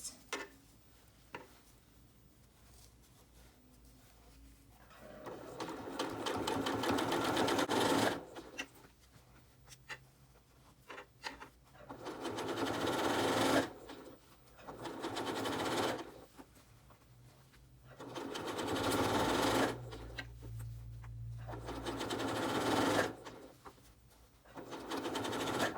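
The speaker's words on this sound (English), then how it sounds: "stretching that band as you're sewing" A sewing machine stitching a stretched fabric band, with bursts of steady mechanical whirring and rapid ticking separated by short pauses, close and alone without talk.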